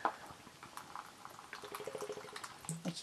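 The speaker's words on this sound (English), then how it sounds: "I'm just going to get some water in a pot" Water running into a pot at home, a faint, uneven gurgle and splash with small drips, building slightly toward the end, quiet and without talk.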